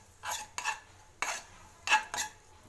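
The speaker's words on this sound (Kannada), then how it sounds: "ಅರಿಶಿನ ಹಾಕ್ಕೊಂಡು ಮತ್ತೆ ಮಿಕ್ಸ್ ಮಾಡ್ಕೋಬೇಕು" A utensil stirring turmeric and coriander leaves into a mixture in a pan produces five quick scraping, clinking strokes in an irregular rhythm, close and fairly crisp, with quiet gaps between them and no voices.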